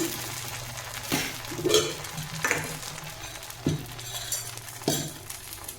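Sprouted green gram dosa batter sizzles on a hot oiled dosa tawa in a steady fry, broken by sharp scraping or clinking strokes roughly every second, close and moderately loud with no talk.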